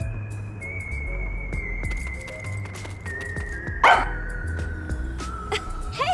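A dog barks in the video game Master Detective Archives: Rain Code, giving a few short yips and barks over a steady musical background with whistle-like tones, moderately loud and close, with no talk.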